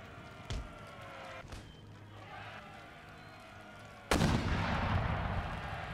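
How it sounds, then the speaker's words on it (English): Mortar fire during a siege battle in Empire: Total War, with a few sharp distant booms followed by a heavier blast and rumbling aftermath over faint battlefield ambience. "Mortars, you guys are scared of them"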